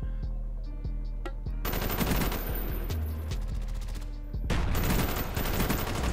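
Sustained automatic gunfire from a weapon in a video game: loud, rapid, continuous bursts with a short break near 3 seconds and a heavier stretch of shots resuming just before 4.5 seconds.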